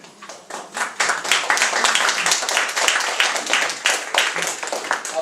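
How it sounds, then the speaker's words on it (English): An audience clapping at a poetry reading in a bookstore, steady applause from a small crowd that sustains for several seconds with no talking. "if I could ask you guys not to clap between poems"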